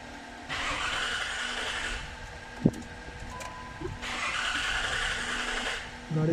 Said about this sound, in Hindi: तो सेल्फ मार के मैं आपको दिखा देता हूँ।